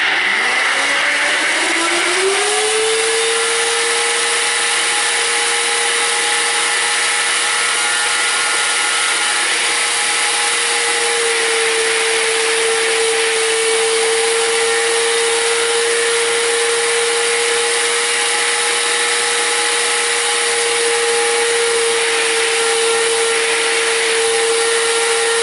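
Nutribullet RX blender with its thick extraction blade grinding almonds into nut butter, a loud continuous motor whine that rises in pitch during the first seconds and then holds steady and close, with no talk.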